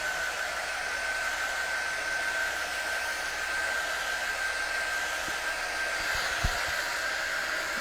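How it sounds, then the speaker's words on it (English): A heat tool blowing hot air over a St. Patrick's Day craft décor piece, a steady loud rushing whoosh with a thin high whine, continuous and close, a couple of small bumps near the end. "I'm going to actually hit it with the heat"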